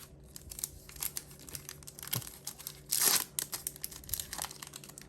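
A trading card pack being torn open, with crinkly foil crumpling in a run of close, scratchy rustles and one louder rip near the middle, no talk.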